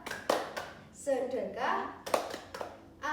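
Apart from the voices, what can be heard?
children clapping a classroom clap chant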